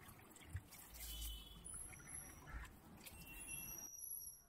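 Water being poured into a pan for rava kichadi, a faint, continuous trickling splash that runs for several seconds and then tapers off.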